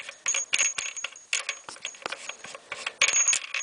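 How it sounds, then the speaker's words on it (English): Wrench on the rear axle nut of a 2008 Harley-Davidson Sportster, giving bursts of metallic ratcheting clicks and clanks that start and stop irregularly, close up and fairly quiet. "You take a wrench and undo this side."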